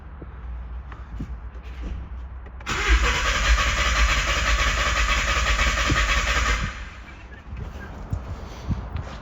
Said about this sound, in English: I just cranked it a little bit over than I did the other ones.